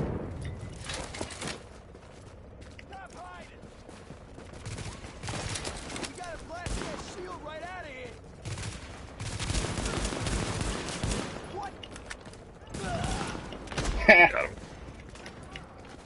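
Gunfire crackles in bursts during a firefight in The Division, mixed with game effects and players talking over each other, with a louder shot near the end.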